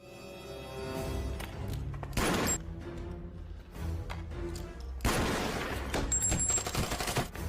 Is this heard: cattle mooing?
no